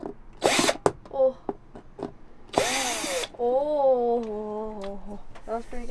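A power drill runs in two short, loud bursts while demolishing a vintage truck camper, with voices talking between and after the whirs.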